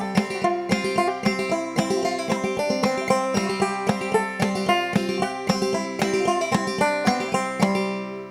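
Clawhammer banjo playing a simplified line of Old Molly Hare, bright plucked notes in a steady bouncing rhythm with regular brushed strums, clear and solo.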